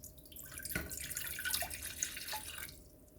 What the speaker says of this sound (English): So we'll begin by putting some water into the bowl,